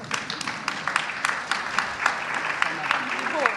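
A conference audience in a Paris hall applauds, a moderate, fairly steady stretch of clapping with individual claps standing out and a voice speaking over it.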